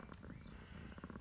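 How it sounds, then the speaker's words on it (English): A cat, a mother nursing kittens on a hot day on a farm, purrs close by in a steady, soft rumbling rhythm with no talk over it. "Doing a quick cat check."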